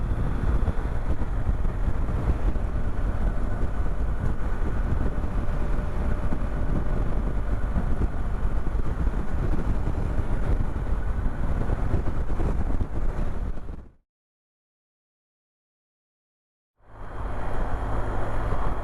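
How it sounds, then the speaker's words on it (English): Strong wind roars steadily into the microphone while riding a BMW GSA 1250 motorcycle in Scotland, loud and continuous, cutting out abruptly for a few seconds before returning. "Breezy up here."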